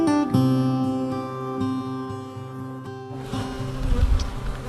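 Bees buzzing around top bar hives on a farm, a dense layered drone of many insects close by, steady for a few seconds before shifting into rougher, noisier buzzing.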